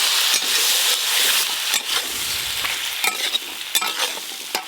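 Taro stolons dropping into hot oil with nigella seeds and green chili, a bright crackling sizzle that flares up, then softer frying broken by repeated scraping stirs of a spatula; no one speaks.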